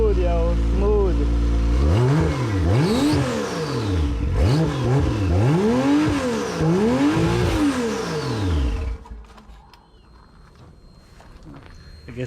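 Toyota 1JZ engine running on a test setup, its idle rising and falling through repeated sweeping revs for about nine seconds before cutting out as fuel runs short, with someone talking over it.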